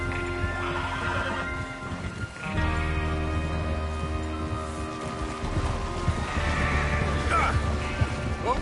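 Horses in Red Dead Redemption 2 neigh and whinny loudly over steady hoofbeats and a low wind-like ambience, with calls recurring through the scene.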